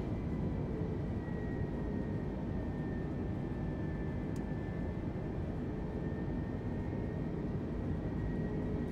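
Airbus A320 Neo engines in Microsoft Flight Simulator 2020 give a steady, loud, broadband cabin roar with a faint high whine, unbroken for the whole stretch.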